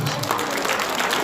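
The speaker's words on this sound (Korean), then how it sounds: "박수 크게 한번" A crowd at a political rally applauds in a brief, loud, continuous burst of clapping and crowd noise.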